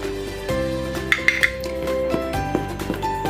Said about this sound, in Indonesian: dan kita aduk lagi dengan merata ya, seperti ini